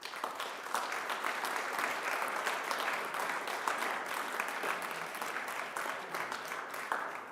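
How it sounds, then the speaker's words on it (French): Steady, sustained applause from an audience at a 2025 New Year press address, honoring the memory of Christophe Deloire; dense clapping fills the whole stretch at even strength, with no voices over it. "Christophe Deloire, dont je vous remercie d'honorer la mémoire par vos applaudissements"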